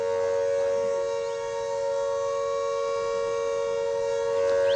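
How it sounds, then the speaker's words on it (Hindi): Air raid civil defense siren wailing across Mohali, Panchkula and Patiala during an alert, a loud steady sustained tone with harmonics holding level throughout, no voices. "मोहाली, पंचकुला, पटियाला में भी इसी तरह के सायरन बजते नजर आ रहे हैं।"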